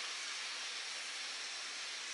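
Sesame oil sizzles steadily in a hot pan, a constant bright hiss holding even and fairly loud without a break, with no voices.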